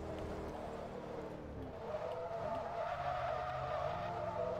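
Tyres skid and squeal on a race car in Forza Motorsport 2 at Tsukuba, a sustained slide over a steady engine drone, loud and continuous with no talk.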